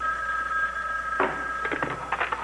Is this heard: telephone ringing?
yes